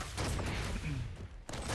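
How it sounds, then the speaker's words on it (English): Rocket launcher fire in Quake Champions during a competitive duel match, a dense, continuous wash of blasts and explosions with a brief drop near the end before the barrage resumes, loud throughout. "as Klyb's rockets are impeccable"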